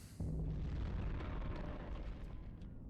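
Deep rumbling explosion from a Frictional Games horror video game, a sudden boom that swells into a sustained roaring blast with crackling debris, loud and continuous without speech.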